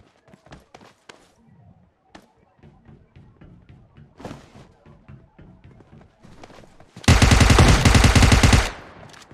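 Automatic gunfire in the video game PUBG: a rapid, loud burst of shots lasting over a second near the end, preceded by scattered single shots, footsteps and quiet game sounds, with players talking at times.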